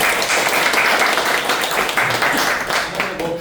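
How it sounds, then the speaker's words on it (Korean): An audience at a small business CEO forum held in a restaurant gives a short burst of dense, steady applause that carries on without pause. "박수 주시죠."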